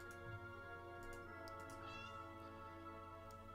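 A cat meowing to be let out, a few faint drawn-out cries over a low steady hum with a soft ticking, quiet and somewhat distant.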